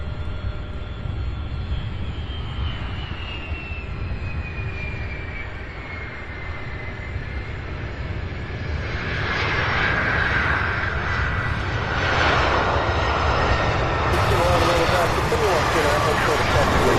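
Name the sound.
UPS Airbus A300 arriving on runway 17 right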